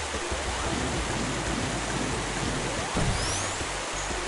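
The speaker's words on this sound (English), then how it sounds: "So now I'm gonna use my water ability so I can travel up this waterfall." Rushing waterfall in the Sonic Superstars video game, a dense, steady roar of water that fills the whole clip evenly and loudly, with no voices over it.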